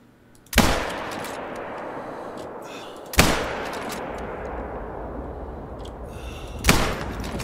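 Three loud, sharp rifle shots fired while hunting in the game theHunter: Call of the Wild, each a sudden crack followed by a long rolling echo, spaced a few seconds apart with no talking.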